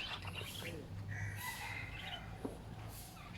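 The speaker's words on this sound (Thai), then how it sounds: "มีเสียงนกเสียงไก่หันตลอดเวลาครับ" A rooster crows in the distance while birds chirp and call around it, with a soft outdoor background in a shady natural forest at a Thai monastery.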